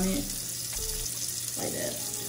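Water from a bathroom tap pouring steadily into a cupped hand at the sink during a skincare routine, a continuous close splashing rush with a brief knock near the start.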